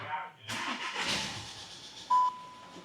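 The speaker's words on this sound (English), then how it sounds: "That car now is starting and running like a little single sewing machine" A Volkswagen Karoq engine, previously overheated, cranks and catches, then settles into a steady, close idle with a brief high whine partway through.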